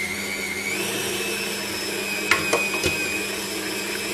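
A kitchen machine kneads cheese roll bread dough with a steady motor whine and hum, a few brief knocks and rattles rising near the end, with no talk.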